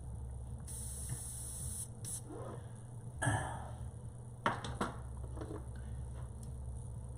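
Faint steady hiss of an airbrush spraying paint, with a few short bursts and light clicks against a low background hum.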